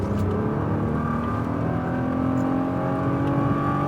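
A Nissan GT-R Premium accelerates on an autocross track, its engine roaring loud and steady from close by with a continuous rising drone throughout.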